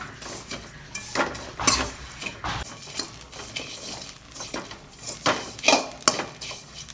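Vermicelli roasting in ghee in a pan over a low flame, stirred with a metal spoon that scrapes and clinks steadily against the pan in a close, moderately loud, irregular rhythm.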